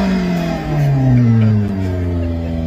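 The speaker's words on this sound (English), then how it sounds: "Check the public's reaction after making my car sound like a Ferrari." A car with a RevKing device plugged into its OBD port plays a simulated Ferrari exhaust note through speakers, a loud, close revving rise and fall with shifting engine tones.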